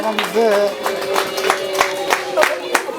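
Wedding guests clap in a brisk run of claps while a voice speaks over them, and the applause fills the room at close range.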